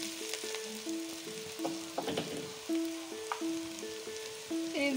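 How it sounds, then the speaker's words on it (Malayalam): Ingredients for Manjali biryani sauté in a pan, giving a steady close sizzle with a few louder stirring bursts, while music plays throughout. "ഇതൊന്ന് നല്ലതുപോലെ വഴറ്റിയെടുക്കണം."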